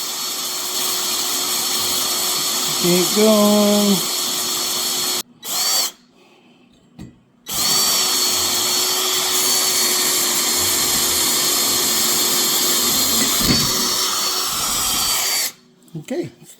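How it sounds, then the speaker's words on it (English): A power drill bores a pilot hole while installing a Vevor boom and hoist, whining loudly and steadily with short stops and restarts, and someone speaks briefly over it. "So look at how well that's drilling."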